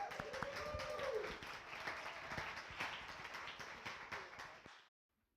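An audience applauds to welcome Heather, the speaker presenting the Westside Area Concept Plan, with steady clapping from a modest crowd that fades and stops abruptly near the end.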